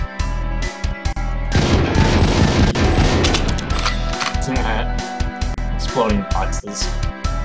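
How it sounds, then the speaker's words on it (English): Gunfire in the GoldenEye 007 video game on Nintendo 64, played through an emulator: a dense run of loud game gunshots and bursts with short booms, continuous for several seconds, then sparser shots with other game sounds. "Let's shoot the gun."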